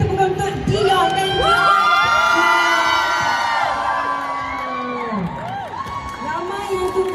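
A crowd at a film premiere at GSC Mid Valley cheers, whoops and shouts loudly for the stars, with high excited voices and children's yells layered together close by, and little clapping.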